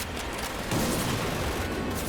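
Grenade explosions and gunfire in the video game Medal of Honor Pacific Assault form a dense, continuous roar of booms and shots with no clear pauses.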